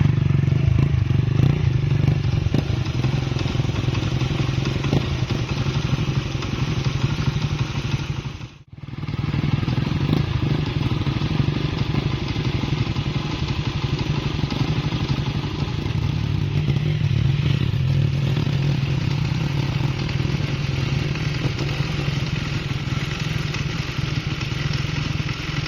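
Motorcycle riding off-road in the hills across a shaky, swaying bridge, its engine droning steadily and close with rattling and scraping clatter underneath, a brief dropout partway through, and no speech.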